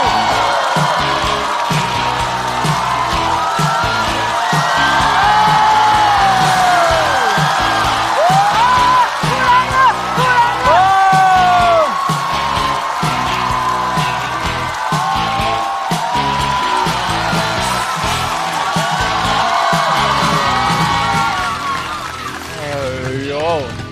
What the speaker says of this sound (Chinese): 掌声欢迎呼兰